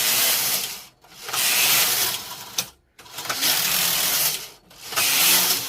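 A Brother knitting machine carriage pushed across the needle bed for a lace knitting pass, three long loud rasping slides separated by short quiet pauses as it changes direction.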